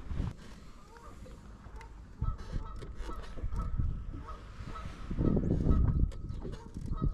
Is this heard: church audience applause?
no